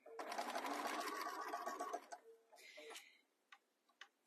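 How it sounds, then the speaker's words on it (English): A sewing machine stitches a fabric phone case in a loud, steady run of rapid motor-driven stitching for about two seconds, followed by a short burst and a few faint clicks as it stops. "Just one little back stitch and we're done."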